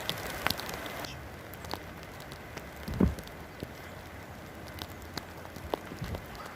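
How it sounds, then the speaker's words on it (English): Rain falls steadily outdoors as a soft, continuous patter, with scattered crackling drops and a louder thump near the middle, no talking. "The rain is falling."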